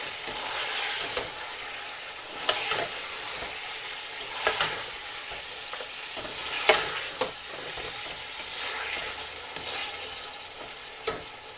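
Mutton frying with yogurt in a pot for pulao, a continuous close sizzle broken by repeated scraping stirs and occasional sharp spoon knocks against the metal, with no voices.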